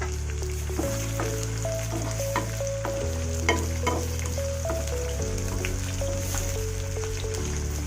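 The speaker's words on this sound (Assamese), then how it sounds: "পিঁয়াজ দিলোঁ তাৰপিছত এতিয়া আদা নহৰুখিনি দি দিছোঁ আৰু জলকীয়া দুটা দি দিছোঁ" Onion, ginger, garlic and green chilies fry in a pan for baby corn manchurian, giving a continuous close sizzle with stirring scrapes beneath steady background music.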